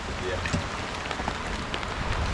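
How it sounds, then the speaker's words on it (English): Rain begins falling at an outdoor fishing spot near water on an August trip through Iowa and Wisconsin, a dense, steady patter with faint scattered drops throughout the short stretch. "Starting to rain now."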